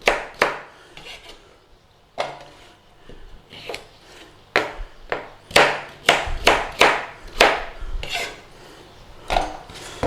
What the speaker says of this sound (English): you don't have to be so precise in, you know, slicing up your carrots or anything